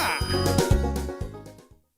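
A loud electronic ringing tone on a Philippine radio broadcast, bursting in repeated ring pulses for about two seconds before cutting off abruptly.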